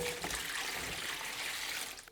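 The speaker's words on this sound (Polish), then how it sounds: "Ja zaczynam sobie od wlania wody. Woda z kranu." Tap water pours steadily into a container for sourdough bread with caramelized onion, a continuous close splashing gush that runs alone for about two seconds before easing off at the end.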